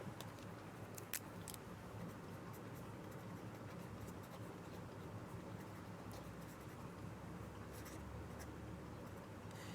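Chalk or a marker scratches across a board in a chemistry lecture on organic reactions, with scattered short taps and strokes over a faint steady room hum, quiet and with no talking.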